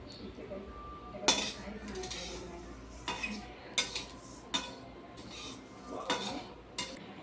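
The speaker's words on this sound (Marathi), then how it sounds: "ताटामध्ये तुम्हाला हे सर्व काढून घ्यायचं आहे" Roasted seeds are scraped and tipped from a pan onto a metal plate, giving several scattered metallic clinks and scrapes of utensil on metal over a low background hum.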